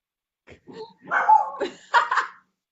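A pet dog barks at close range indoors, a few short yips and barks in quick succession, loud against a quiet background.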